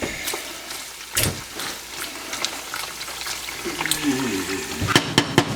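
Hog fat rendering into lard in a pot while being stirred, with bubbling and sizzling, scraping knocks of the stirring utensil, and sharp clinks toward the end.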